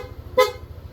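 A TIA horn fitted to a Yamaha Aerox V2 motorcycle sounds one short, loud toot over a low background hum.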